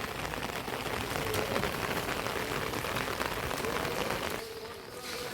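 Steady rain falling in a Punjabi village, a dense even hiss of drops close by that carries on alone without talk, easing slightly toward the end.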